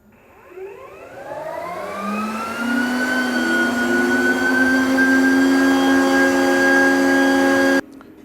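Loring S15 Falcon coffee roaster starting its warm-up cycle, fans and motor spinning up with rising whining tones that settle into a loud, steady drone, then cut off abruptly near the end.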